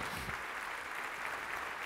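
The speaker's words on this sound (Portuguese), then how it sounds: "Você pode aplaudir mais forte?" Congregation applause during a church service, a dense, continuous patter of many hands clapping with no voices over it.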